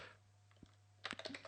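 Keystrokes on a computer keyboard while typing into a browser, a quick burst of several clicks near the end after a near-silent stretch, close and fairly quiet.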